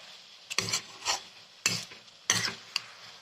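A spice paste of ginger, garlic, chili and onion is stirred in a wok, heard as several distinct scraping, rasping strokes of a utensil against the pan, separated by short pauses.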